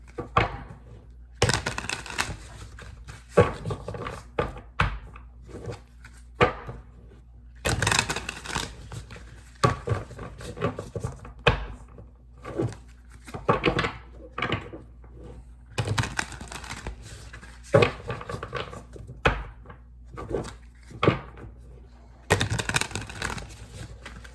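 Tarot cards shuffled by hand in repeated bursts of riffling and flicking, close and crisp, separated by short quiet pauses.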